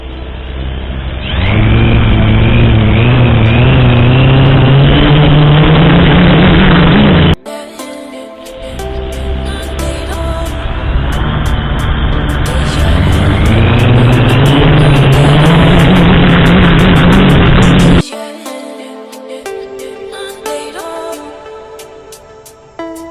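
Propellers of a homemade STM32-powered drone whir loudly in flight, a sustained buzzing motor drone that shifts pitch, cutting out abruptly twice between segments of noisier rattling.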